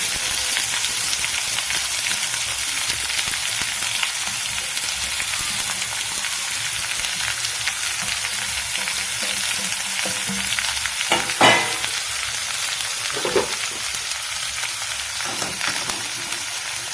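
Spring onion stalk thoran with green chilli and curry leaves sizzles steadily in a pan, with a few louder scrapes and clacks from stirring near the end; no one talks.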